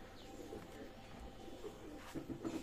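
A pair of Kaldam pigeons coo softly in repeated low calls, fairly faint over a steady background hum, with no talking.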